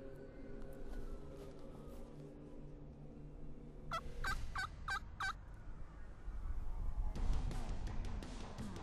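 A wild turkey in Nebraska woods gobbles in a quick rattling burst of about five close notes, loud over a low rumble and hum, followed by rustling noise.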